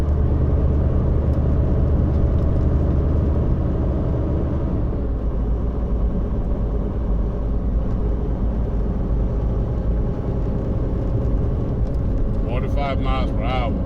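Truck engine and road noise while driving a curving hillside road, a loud steady rumble and whir throughout with a brief voice near the end.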